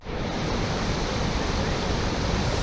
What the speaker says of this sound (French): là on va traverser une très belle rivière, un petit torrent